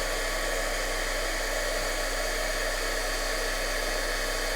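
Heat embossing tool blowing hot air over layered embossing powder, a steady, even hiss-like whoosh like a small hair dryer, continuous and unchanging, with no talking.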